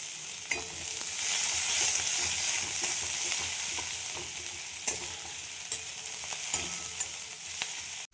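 Thinly sliced onions fry in a pan, giving a steady close hiss of sizzling oil broken by intermittent scraping stirs and small taps of a utensil, with no one speaking.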